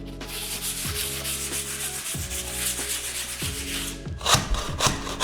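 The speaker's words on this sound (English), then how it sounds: "I need to sand a little spot here, and then it's ready for paint" Sandpaper rubs a small spot on wood before painting, making a close, steady scratchy rasp in repeated strokes, with a few rougher scuffs near the end.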